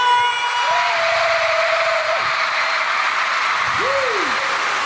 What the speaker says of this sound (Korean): 함성 소리 질러!